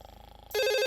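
A cartoon telephone rings: a short muffled lead-in, then a loud, bright electronic ring that starts abruptly and carries on alone for about half a second.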